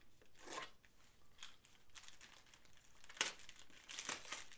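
Foil wrapping on a DHL parcel crinkles and tears as it is opened, with irregular close crackling bursts and a sharp rip near the end, no talking.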